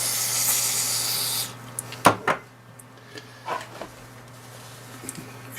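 Contact cleaner hisses from an aerosol can onto the electronics of a Jaguar S-Type remote key fob in one steady spray of about a second and a half, followed by a few faint clicks and handling taps.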